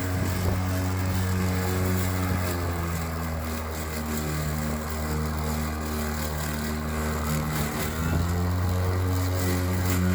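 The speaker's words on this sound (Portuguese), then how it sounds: "Ele acelera e desacelera aí conforme ele vai passando o gramado e vai exigindo, vai tendo uma carga em cima do motor" Makita DLM532 battery lawn mower running over grass, a loud, steady motor whine that dips in pitch and then climbs again as the load on the blade changes.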